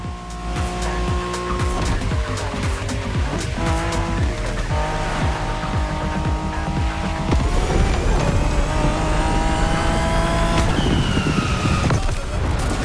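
Race cars roar continuously in a Japanese-car racing video game, engines revving and shifting up through gears with tire squeal, loud and close throughout with no pauses.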